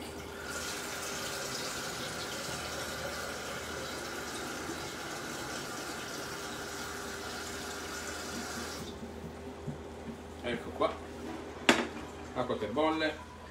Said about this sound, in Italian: da parte mettiamo dell'acqua a bollire